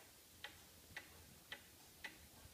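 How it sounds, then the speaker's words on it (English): An antique Black Forest Hunter cuckoo clock ticks steadily, about two crisp ticks per second, close and clear against a quiet room with no voices. "Hunter Cuckoo clock."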